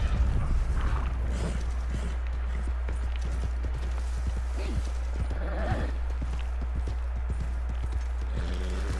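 A horse summoned in a video game trots in with steady clip-clop hoofbeats and lets out a whinny, loud and close, over a constant low hum, with occasional speech.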